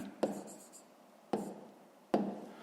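Pen on paper during a fifth-grade maths exercise, three short sharp scratching strokes spaced about a second apart, each trailing off into faint scraping, close and quiet.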